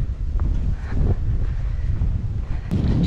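Blustery wind buffets the microphone while hiking along a fence on the Heysen Trail near Kapunda, a loud continuous low rumble with gusty swells and no pauses.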